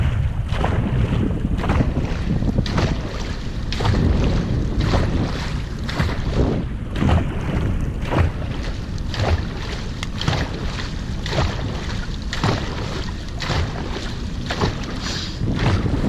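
Paddlers pulling a racing boat through water during a mock race, with regular rhythmic strokes sounding about every second over steady wind and water noise.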